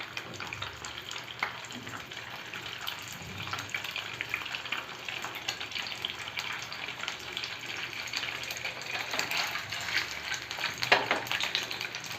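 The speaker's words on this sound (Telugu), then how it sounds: "ఎగ్స్ కదా ఇవి చిత్తుతూ ఉంటాయి" Boiled eggs fried in masala in a pan: a faint but continuous sizzle scattered with small crackling splutters, growing slightly busier toward the end, with no talk.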